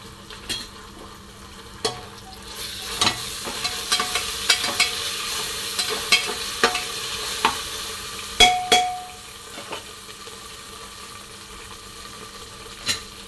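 A soft, steady sizzle of ginger-garlic paste frying in a pan for khichdi rice, broken by scattered clicks and taps of a spoon stirring, fairly quiet and with no talking.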